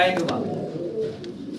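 Giant homer pigeons cooing in a loft, a steady murmur of soft coos close by with someone talking over them.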